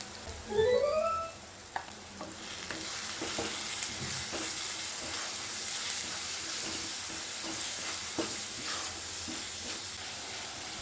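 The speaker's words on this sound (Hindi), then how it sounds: "तो गाइस यहाँ पे मसाले अच्छे से पका लेंगे" Spices cook in a hot pan with a steady, soft sizzle and occasional stirring scrapes, preceded by a brief chirping tone at the start.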